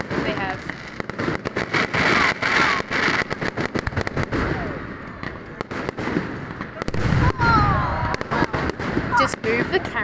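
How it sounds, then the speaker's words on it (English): New Year's midnight fireworks explode and crackle continuously, with rapid overlapping bangs and pops, some loud and near, others more distant. People talk over them throughout. "Just move the camera when you see the fireworks going."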